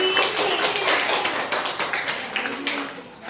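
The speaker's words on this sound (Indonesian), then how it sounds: "Oke, beri aplaus lagi" A junior high school classroom of students gives a round of applause, dense overlapping clapping close by that fades toward the end.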